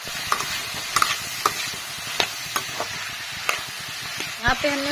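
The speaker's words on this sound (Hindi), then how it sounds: "यहाँ पे हमने सब्जी छौंक दी है, इसमें सारे मसाले डाल दिया है" Vegetables tempered with spices crackle and sizzle steadily in a hot pan, with irregular scraping and clinking as a spoon stirs through them. Close and fairly loud, with no talking.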